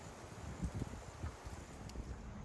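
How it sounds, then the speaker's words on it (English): Wind blowing through an open forest at Indian Lake State Forest, a steady broadband rush with a few soft buffeting gusts against the microphone, faint and continuous with no talking. "it's windy."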